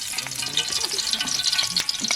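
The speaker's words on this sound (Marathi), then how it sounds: "चला पटापट फोडणी देऊया मस्त." Tempering spices hit hot oil for a village chicken and paneer biryani, a loud close crackle and sizzle with sharp popping bursts throughout, no voices.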